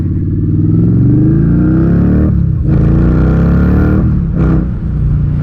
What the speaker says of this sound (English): This engine feels awesome on this motorcycle